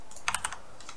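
A handful of quick computer keyboard keystrokes in a cluster, ending with a key press, close and clear while working in Autodesk Maya 2018, with no voices.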